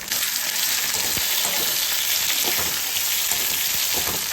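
Tomatoes frying in a pan for a fresh cashew curry, a steady close sizzle with occasional soft stirring scrapes throughout.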